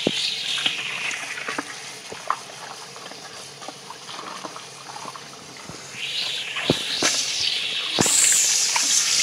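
Cold tap water splashes and swirls over raw chicken pieces being rinsed in a bowl, a close, uneven sloshing with scattered drips that grows louder and fuller toward the end.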